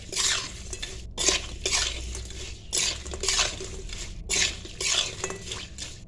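Fried spices and mustard seeds being mixed into mango pickle with oil, heard as repeated bursts of stirring and scraping of a utensil against a metal pot in a steady rhythm with short pauses between them.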